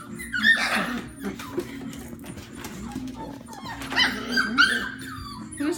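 Five-week-old F1b Goldendoodle puppies whimper and yip in short, scattered bursts close by, with soft rustling between the cries.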